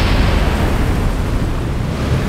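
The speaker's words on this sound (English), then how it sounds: "Man, that explosion is loud." Rocket explosion in Kerbal Space Program, a loud continuous roaring rumble that holds steady throughout.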